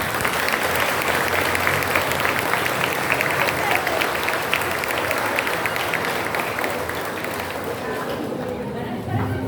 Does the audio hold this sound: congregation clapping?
yes